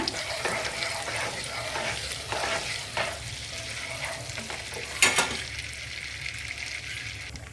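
Bay leaf and stone flower crackle and sizzle in hot butter for a Punjabi chicken masala base, a steady frying hiss with occasional stirring scrapes and a sharper spoon clink near the end.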